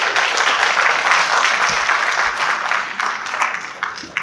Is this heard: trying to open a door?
no